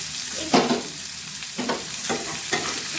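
Bhola fish curry fries in a pan with garlic, onion and chilli as a spatula scrapes through it in a few separate strokes over a steady, close sizzle.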